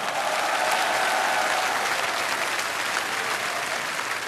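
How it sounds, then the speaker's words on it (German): Loud, sustained applause from a large crowd at a Musikantenstadl folk music show in Passau, cheering the technical crew with thick, continuous clapping and a few faint calls. "Ein Applaus für die Technik, das haut sicher hin."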